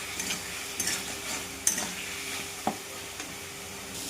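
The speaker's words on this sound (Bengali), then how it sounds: "আলুগুলো দিয়ে ভালো করে কষে নেবো" Potatoes stir-fried with spices in oil in a pan, a continuous soft sizzle with scattered scraping taps of a spatula against the metal, close and moderately quiet, with no talking.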